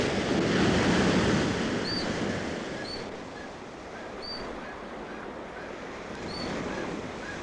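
Rough sea surging and crashing against coastal rocks, a broad continuous roar that swells and recedes, with thin high calls of otter cubs piping faintly above it.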